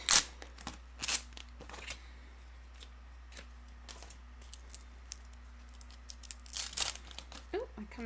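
Vinyl decal transfer tape handled and torn, giving a few close crinkling rips at the start and again near the end, quiet rustling between, with a soft low hum underneath.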